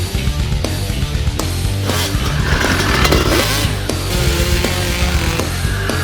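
Motocross dirt bike engines rev and rumble loudly and continuously through an urban riding session in Russia, with steady mechanical drone and occasional sharper accents, no talking.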